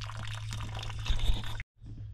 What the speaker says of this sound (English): We was taking on some water.